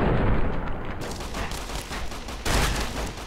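Dense, rapid shotgun blasts crackle continuously in Fallout: New Vegas with a sharp burst near the end, loud and close, with no talking.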